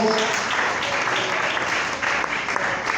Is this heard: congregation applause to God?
yes